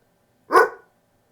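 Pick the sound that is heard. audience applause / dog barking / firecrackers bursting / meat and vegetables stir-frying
dog barking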